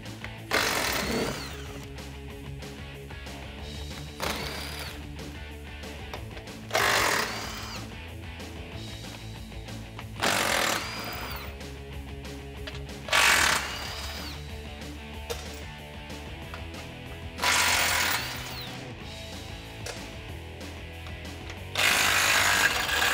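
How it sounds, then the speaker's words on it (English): Skid plate bolts on a 2021-2022 Ford Bronco being removed with a 15mm socket on an impact gun, several loud buzzing bursts of a few seconds each, repeating at regular intervals over a steady mechanical drone. "So grab your 15mm socket, your gun, or your ratchet."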